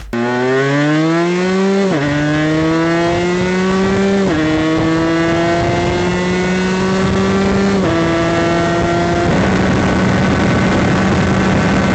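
An Aprilia 125 two-stroke motorcycle engine of about 30 horsepower screams loud and close as it accelerates hard through several gears, each shift dropping the buzzing pitch before it climbs again.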